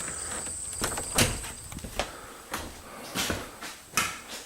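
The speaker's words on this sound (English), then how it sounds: "Oh, let me shut the door." An interior closet door in a house being shut, heard as a series of soft knocks and clicks with a sharper thump near the start, close by and fairly quiet, with no talking.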